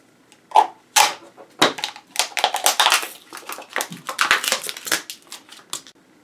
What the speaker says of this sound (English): So let's grab the X-Acto knife.